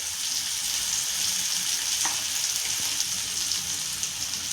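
Small pieces of green chilli sauté with turmeric in a hot pan, giving a steady, close frying sizzle with faint stirring clicks and no talking.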